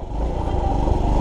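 Suzuki GD 110 motorcycle riding slowly on a muddy rural path, its small engine giving a steady low putter at close range, alone without talk.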